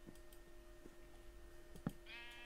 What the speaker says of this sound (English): So many sheep.